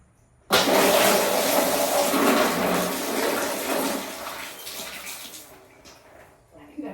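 Storm Beryl floodwater rushes and pours loudly indoors, a dense broadband wash that starts abruptly and gradually fades over several seconds.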